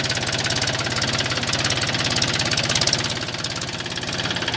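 A new Mahindra 265 DI tractor on 12.4-28 tyres pulls a nine-tine cultivator through a field under heavy load, its engine thumping in a fast, steady knocking rhythm, loud and close with no voices.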